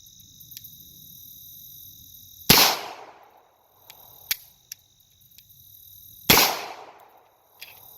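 Two sharp, loud shots from a Beretta M9A3 9mm pistol ring out about four seconds apart, each with a short echoing tail, while crickets chirp steadily in the background.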